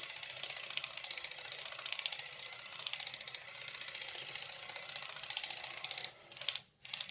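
Nu Skin LumiSpa facial cleansing brush running with a steady, close, rapid buzzing whir that briefly cuts out and stutters near the end.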